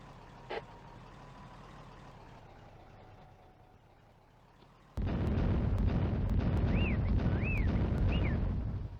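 French artillery guns in a 1940 war video game fire a rapid series of sharp booms over a loud rumbling background, after a quieter stretch holding a single early pop.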